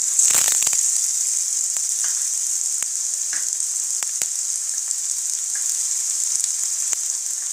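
Onion and ginger sizzle in oil in a frying pan, a steady bright hiss throughout with occasional spoon scrapes and small clicks, close and continuous with no talking.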